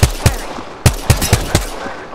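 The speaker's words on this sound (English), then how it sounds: "The enemies are shooting at me." Enemy gunfire in a video game: a loud, close series of about seven sharp shots in an irregular rhythm, with short gaps between them.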